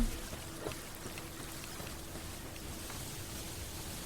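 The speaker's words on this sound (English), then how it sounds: "He's just spraying everyone with water." A creature in the video game Palworld sprays water in a steady, hissing rush that pours on without a break, low and fairly quiet, with no voices.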